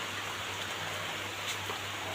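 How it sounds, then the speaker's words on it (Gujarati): Rain begins to fall outdoors: a steady, even hiss of drops across the whole span, with no voices. "જોવો તમે જો વરસાદ આવવાનું ચાલુ થઈ ગયો અત્યારે"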